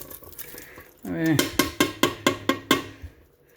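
Corn and green beans get tipped into a pot of homemade hamburger soup, then a spoon stirs with a steady series of about seven sharp metallic scrapes and clinks against the pot.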